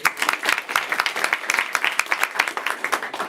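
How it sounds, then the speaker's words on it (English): A live audience applauds a contestant at an event, producing dense, lively clapping with many sharp individual claps close by, holding steady throughout with no talking. "Clap for Leaf, everybody."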